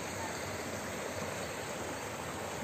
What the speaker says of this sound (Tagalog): Tapos dito ay may ilog